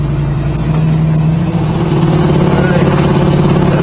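A 1971 Ford Torino GT engine rumbles loudly and continuously, its low exhaust note rising and falling slightly as it revs.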